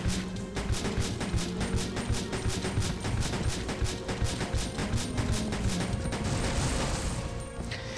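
Rapid, sustained gunfire from Resident Evil Survivor 2 – Code: Veronica, loud sharp shots repeating in a dense, even rhythm for several seconds alongside mechanical clatter.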